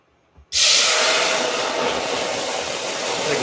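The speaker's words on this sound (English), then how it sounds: "I'm going to put just a splash of vegetable broth in here. It's going to steam up here." Vegetable broth splashed into a hot pan hits with a sudden loud burst, then settles into a steady, close, intense hiss and sizzle of steam that holds for several seconds.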